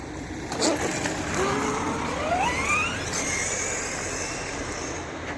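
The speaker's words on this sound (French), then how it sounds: "Transmission en métal, c'est pour ça que vous entendez pas mal de bruit." A Losi 1/8-scale RC buggy with a metal transmission, its motor whining up and down in pitch as it accelerates, with noisy gear clatter in the background.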